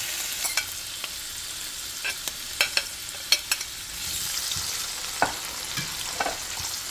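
Vegetables go into a pan of frying mackerel, a steady sizzle with sharp crackles and scattered clicks of stirring, close and fairly quiet.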